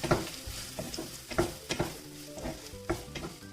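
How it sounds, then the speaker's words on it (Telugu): Onions frying in hot oil with ginger-garlic paste for paneer kurma, stirred in a pan: a steady sizzle broken by repeated sharp scraping and clattering strokes, close and fairly loud, with no talking. "ఆనియన్స్ కొంచెం ఫ్రై అయినాక అల్లం వెల్లుల్లి పేస్ట్ వేసుకున్నాం"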